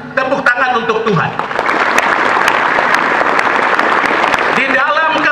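Church congregation in Papua clapping in unison during a sermon, loud sustained applause with voices speaking over the start and end.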